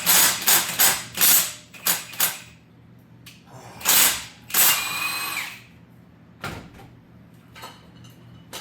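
A power tool works bracket bolts off a car's AC compressor in close, loud bursts: several short drill-like whirrs at the start, then longer ones with a squealing ratchet tone, and a final brief burst after a pause.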